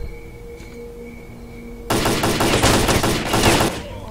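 Enemy gunfire in Stalker: Clear Sky arrives abruptly after a quiet stretch, a dense burst of rapid automatic shots that stays loud and close for almost two seconds before breaking off.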